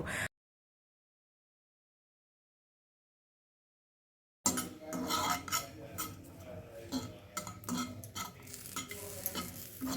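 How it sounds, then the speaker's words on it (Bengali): Green chillies dry-roasting in a dry frying pan for parwal bharta: after a few seconds of silence, busy clattering stirring and light sizzling begin and continue close up. "কাঁচা লঙ্কাটা এবার আমি শুকনো খোলায় ভালো করে ভেজে নেব"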